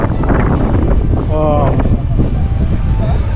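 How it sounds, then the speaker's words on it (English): Strong outdoor wind in San José buffets the microphone with a constant loud roar and rumble, while a voice is faintly heard underneath. "Wow, it is windy."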